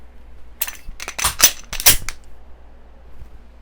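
Sharp mechanical clicks and snaps from an empty pistol handled during dry fire practice, several clustered bursts over a couple of seconds, close and fairly loud, then quiet.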